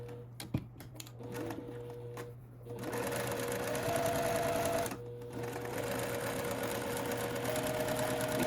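A sewing machine stitches a curved Coneflower quilt block, starting with a few short bursts, then running steadily for several seconds after a brief pause, close and fairly quiet.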